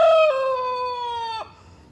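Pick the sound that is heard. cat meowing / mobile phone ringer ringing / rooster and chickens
rooster and chickens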